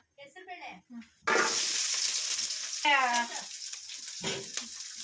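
Onion and garlic hit hot oil with a sudden loud sizzle that keeps going steadily. A voice speaks over it at times, and there is brief talk before the frying starts.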